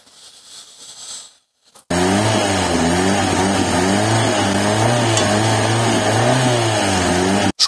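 A hot car engine with an AN-fitting oil line revs hard and close, its tone rising and falling through steady high-rpm pulls after a brief quiet start, loud and alone with no speech.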